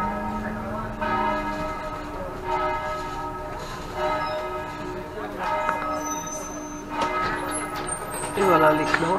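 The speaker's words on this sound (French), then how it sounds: "Et voilà les cloches, il est midi." Church bells ring at noon in Bolzano near the cathedral bell tower, repeated tolls sounding at moderate distance over the splash of a noisy fountain and street ambience.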